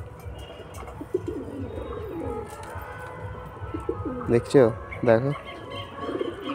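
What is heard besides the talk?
pigeons cooing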